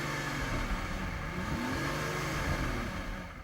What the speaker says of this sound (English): let's just have a listen to these cars' V12 engines.